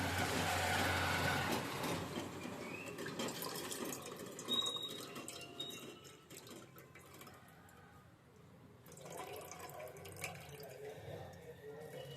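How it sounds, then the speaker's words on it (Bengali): Cold water pours and splashes over freshly made chhana, a running, trickling wash that grows quieter midway and then picks up again. "এবার এই ছানাটার মধ্যে ঠান্ডা জল দিয়ে ছানাটাকে একটু ধুয়ে নিচ্ছি"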